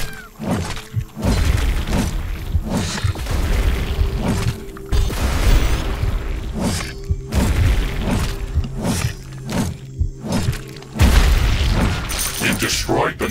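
Loud, repeated explosions boom and shatter through The Riftbreaker's alien battlefield as a creature nest is blown apart, with heavy thuds and crackling debris breaking out every second or two over a steady low hum.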